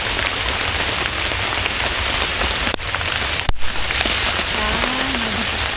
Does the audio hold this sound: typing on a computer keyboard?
no